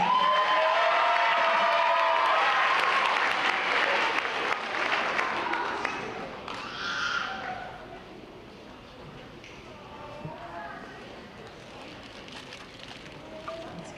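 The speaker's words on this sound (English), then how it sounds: "Let's give them a round of applause." A crowd applauds and cheers for 5th grade graduates at a school moving-up ceremony, loud at first and then fading to scattered clapping and murmuring.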